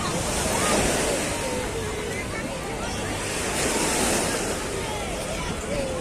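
Calm sea waves wash steadily onto Glim public beach in Alexandria, a continuous broad surf hiss that swells gently and recedes, with light wind buffeting the microphone throughout.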